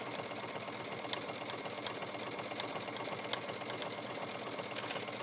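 Sewing machine running steadily while top stitching around the pocket of an A-line skirt, a continuous even whirr with no pauses.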